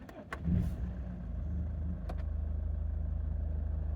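A 2012 facelift Jaguar XF starts up nearby with a short cranking burst, then settles into a low, steady idle with an even pulsing throb.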